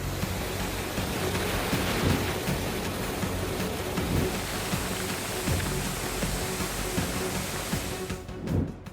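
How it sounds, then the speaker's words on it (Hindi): Torrential monsoon downpour in Madhya Pradesh, a loud unbroken roar of heavy rain drumming on surfaces with dull low rumbles underneath, cutting off abruptly near the end. "मध्य प्रदेश में बारिश मूसलाधार"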